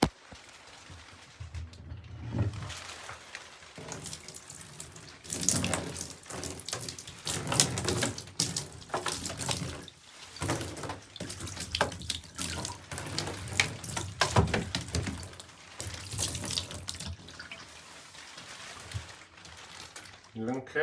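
A bathtub tap runs steadily into a tub while a wet kitten or cat plays nearby, the splashing water noise continuous and close with a person talking over it at times.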